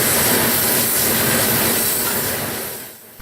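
A CSX unit coal train of hopper cars rolls past heading for a cement plant, a loud, steady roar of wheels and rail noise that slowly fades toward the end.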